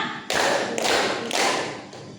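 An elderly church congregation claps together in three loud, even bursts, each a dense wash of many hands close by, with no talking.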